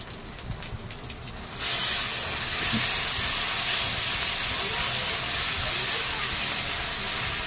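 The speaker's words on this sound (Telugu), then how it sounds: "అదిగో అల్లం పచ్చిమిరపకాయ పేస్ట్ వేసేయండి" Ginger and green chili paste dropped into a hot pan for palak paneer: after a quieter start, a loud, sudden sizzle bursts in and holds as a steady, close hiss.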